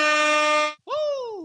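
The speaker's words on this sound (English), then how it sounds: "with the air horns and the Herm soundboard" Two loud blasts of an air horn fired from a podcast soundboard, the first steady and the second bending downward in pitch after a brief gap.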